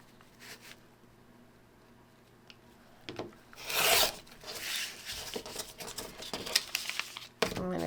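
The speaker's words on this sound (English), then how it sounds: "I'm going to trim my outsides first. I am trimming on the solid line here." Scissors or a rotary cutter trimming the outer edges of a paper-pieced quilt block, a soft rasping cut through paper and fabric heard in short bursts at close range, with quiet handling in between.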